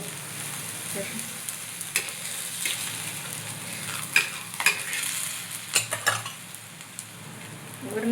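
Cabbage dhapate fry quietly in a pan as oil is drizzled around them, giving a soft, steady sizzle with occasional scraping and clinks of a utensil against the pan.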